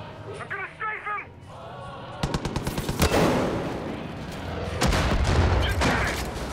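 A machine gun in the game Far Cry 5 rattles off in rapid bursts, with dense, loud volleys and booming impacts between them, and someone talks briefly before the firing starts.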